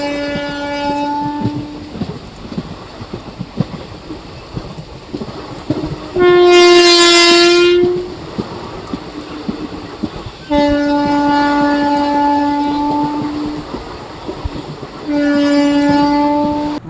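Passenger train on a single-line track in rain, its horn blaring in several long loud blasts over the steady rumble and clatter of the moving carriages, heard close.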